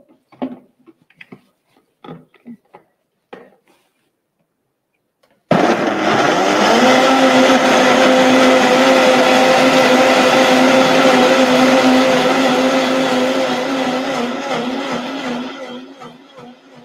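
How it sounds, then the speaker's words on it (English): A kitchen blender runs steadily, blending pepper with a little water for cocoyam pottage. Loud continuous motor whir and churning start abruptly after a few soft clicks and handling sounds, then hold for about ten seconds before easing slightly. "So we are going to add more water, little water for easy blending, so that we do not spoil our blender."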